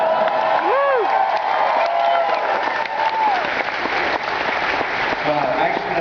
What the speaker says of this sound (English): It seems like such cheap applause